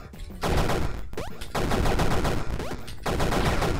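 Rapid gunfire from the retro arcade platformer Super Crate Box, loud and close, in three sustained bursts of fast, crackling shots separated by brief pauses.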